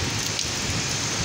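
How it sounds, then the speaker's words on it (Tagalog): Heavy rain with large drops pours steadily in Ha Lin Pei Village, a dense, even hiss of drops hitting surfaces close by with no pause throughout. "Ulan, ulan. Sana ulan lang yan."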